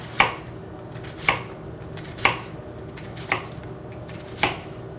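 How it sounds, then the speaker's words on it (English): A knife cuts an onion into bite-sized pieces on a board, five distinct close thuds spaced about a second apart, each slow and deliberate over a faint steady background. "You got a nice big chunk of onion and you want to take it and carefully cut it up into bite-sized pieces."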